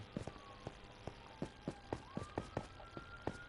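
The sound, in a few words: distant sirens in a small town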